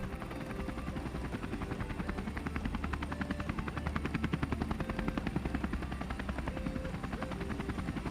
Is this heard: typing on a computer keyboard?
no